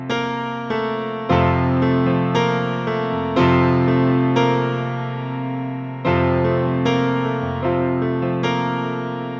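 Solo piano plays the chords of a song with both hands, sustained block chords struck in a slow, even rhythm, each ringing and fading before the next, close and clear with no talking.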